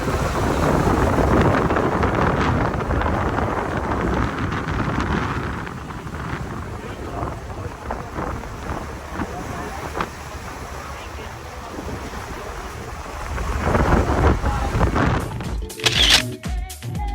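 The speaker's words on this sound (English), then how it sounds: "It's super windy." Strong wind on Santorini buffets the microphone in heavy, continuous rumbling gusts, with a few louder bursts near the end.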